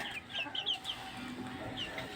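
Rhode Island Red hens cluck and chirp intermittently at moderate distance over steady low background noise, with a few higher-pitched squawks.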